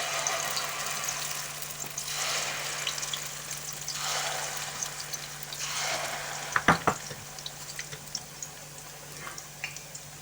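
Potato pancakes with a soft cheese filling fry in a pan, giving a steady hiss and sizzle with swelling bursts as fresh batter is spooned in, plus a few sharp utensil clinks near the middle and a low hum underneath.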